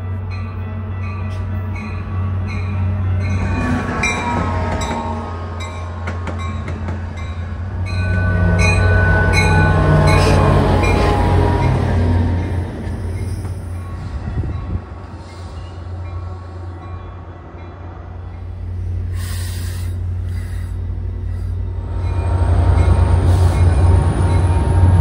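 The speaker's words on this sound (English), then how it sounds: "another pair of Metra trains arrive within a few minutes of each other." A pair of Metra commuter trains rumble into the Deerfield, Illinois station, steady low engine hum under squealing wheels and clattering cars, swelling loud twice as they pull in.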